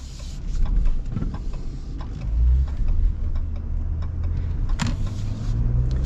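A 2025 Ram 1500 Limited pickup's high-output engine idles and runs steadily with a low, smooth rumble, close by, with faint clicks and small mechanical noises over it.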